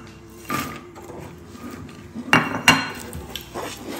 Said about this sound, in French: Je mélange bien pour toutes les recouvrir.